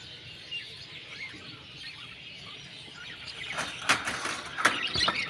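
Pet birds kept at home, breeding pairs with eggs and chicks, chirp as a dense, steady background chatter that grows busier and louder toward the end, with sharp calls piercing through.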